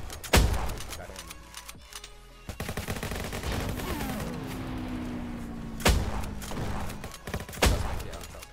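Shotgun blasts in Roblox Jailbreak: several loud, sharp booms spaced a few seconds apart, mixed with other gunfire and game noise, plus a rising engine-like tone in the middle.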